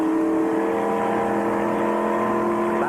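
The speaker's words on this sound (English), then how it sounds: "Darrell Waltrip apparently has lost 1 cylinder in his car." A NASCAR stock car at the 1996 Miller 400 in Michigan, back on track after hood-up repairs for a lost cylinder, holds a loud steady engine drone that rises slightly in pitch near the end, with no talking.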